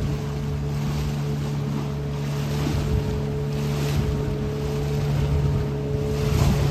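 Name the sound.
boat rocking on the sea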